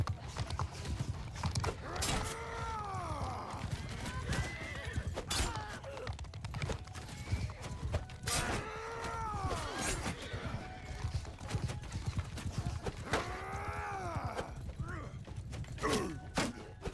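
Horses whinny repeatedly and hooves clatter during a cavalry battle in the video game Mount & Blade II: Bannerlord, with several rising-and-falling neighs recurring every few seconds over a dense bed of battle noise.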